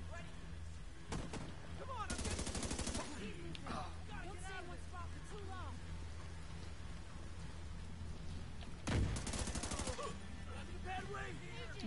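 Enemy gunfire in the video game The Division 2, sharp crackling bursts around 2 seconds and again near 9 seconds over a steady rain-like ambient wash, with talk heard through the clip.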